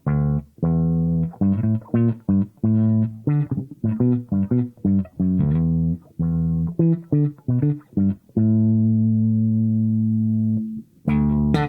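Electric guitar played through a 3 Leaf Audio Proton v3 envelope filter pedal with all knobs at noon, giving a quacky tone: bursts of picked notes and short funky phrases, then a sustained chord ringing out, loud and close with no talk.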